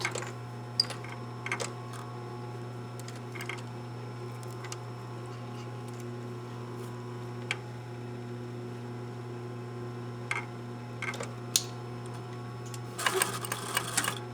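A sewing machine stitching a gusset seam, with a steady low motor hum running throughout. Faint ticks and clicks sit over the hum, and a brief louder clatter comes near the end, close and alone.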